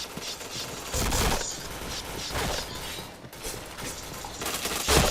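Rapid bursts of gunfire from the first-person shooter Point Blank, a few loud volleys spread over several seconds amid clattering mechanical game effects, with no talking.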